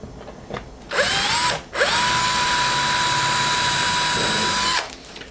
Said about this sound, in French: ainsi j'ai fait mes trous pilotes